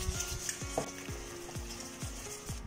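Beaten egg for an ube cream cheese roll batter is mixed in a bowl, with regular rhythmic strokes about twice a second that each give a light tap, over a faint steady hum.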